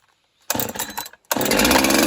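A chainsaw with a slightly faulty carburetor is pulled over: a short burst of engine noise cuts out, then it catches again and runs loud and steady.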